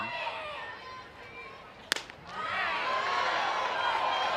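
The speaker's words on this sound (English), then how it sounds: "you could really hear the pop of Abriscato's mitt" A single sharp, loud pop as a softball pitch smacks into the catcher's mitt at an NCAA game between Alabama and Missouri, set against steady crowd noise that swells afterward.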